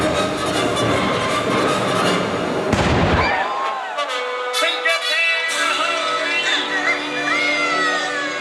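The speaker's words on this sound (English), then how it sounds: "The lights all go out, and then you just hear this boom." A deep boom erupts in a darkened theater show, Fantasmic at Disneyland, as the transition into the Peter Pan scene begins, a broadband burst around three seconds that drops away into orchestral music and voices.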